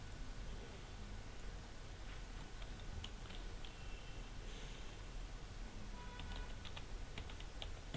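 Faint keystrokes patter on a computer keyboard while code is typed, light irregular clicks over a steady background hiss.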